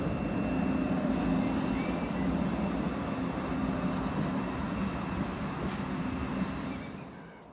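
A train draws into Dalreoch station with a steady low rumble of wheels on rails and a faint high whine, holding loud and even before easing off as it slows near the end.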